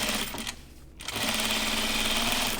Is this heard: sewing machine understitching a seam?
yes